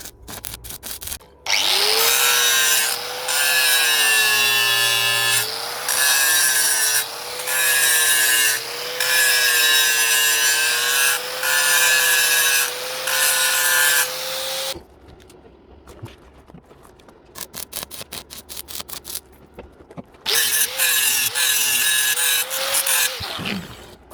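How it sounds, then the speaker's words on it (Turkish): A power tool, likely a grinder, cleans weld spatter off a welded steel mirrored separator frame, with a loud, sustained whining, grinding rasp broken by short pauses and bursts near the end. "bu kaynak çapaklarının bu şekilde temizlenmesi gerekiyor arkadaşlar"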